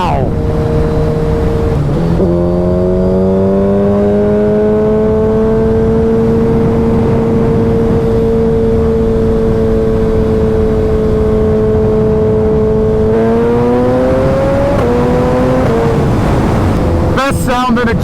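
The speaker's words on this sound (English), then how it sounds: "Best sound and exhaust, bar none, for the Hayabusa. Alien Head 2." A Suzuki Hayabusa sport bike with an Alien Head 2 exhaust revs and holds a loud, deep, steady engine note up close, rising in pitch near the end before a sharp burst of sound.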